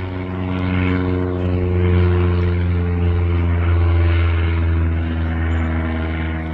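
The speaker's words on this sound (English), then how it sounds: "Low flying planes." A low-flying propeller airplane passes overhead with a loud, steady droning hum and strong engine tones that hold evenly throughout, with no voices.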